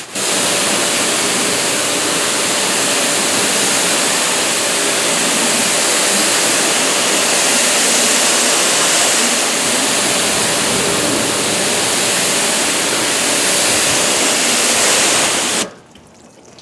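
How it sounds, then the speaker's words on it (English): Water runs in a steady, loud, broadband rush off a car panel coated with DPC Armor SiO2 sealant, continuous for about fifteen seconds before cutting off abruptly. "You'll see it just takes longer to sheet the water off there because we really overwhelmed the panel."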